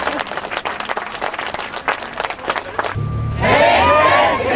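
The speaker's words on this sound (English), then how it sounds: "Big round of applause" An audience breaks into a few seconds of brisk, dense clapping, then the crowd shifts abruptly into loud voices chanting together in unison.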